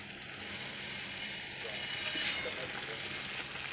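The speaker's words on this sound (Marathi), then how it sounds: "आता आपण यात शेवया टाकून देऊयात" Thick vermicelli is dropped into a pot of boiling water, lightly sweetened, for upma, producing a steady, close bubbling hiss that swells slightly partway through.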